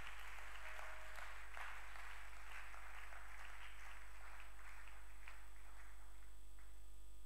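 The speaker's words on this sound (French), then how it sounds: "tu peux acclamer pour la parole du Seigneur" A church congregation claps in sustained applause, a steady wash of many hands across the whole stretch with no voices standing out.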